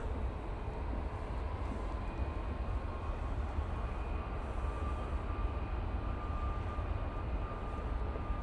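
Jet airliner in British Airways retro BEA livery at Manchester Airport, a steady broadband engine roar with faint tonal whine, constant and moderately loud throughout.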